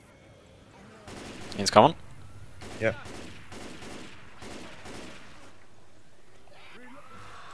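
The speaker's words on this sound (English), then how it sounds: "I shot so many explosive rounds into him that I probably did most of the damage." Bursts of explosive-round gunfire from the zombie shooter Left 4 Dead 2 crack and boom in several quick volleys, loudest early on, while players talk over the action.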